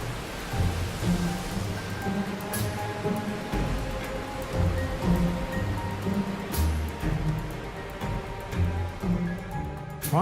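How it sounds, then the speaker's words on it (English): Torrential rain pours in a dense, roaring wash while low rumbles of thunder roll through at intervals, loud and continuous throughout. "Then rain falls in torrents."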